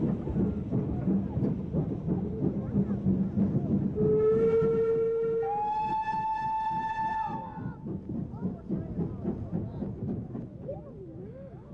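An ex-Southern Region double-chimneyed, large-tendered steam locomotive on loan to the East Lancashire Railway blows a long chime whistle in two rising blasts, loud and near, over steady rolling rail noise and chuffing.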